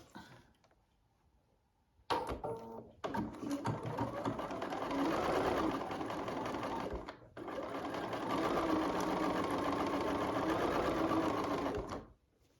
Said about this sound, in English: And now we'll sew that row together at 1/4 inch.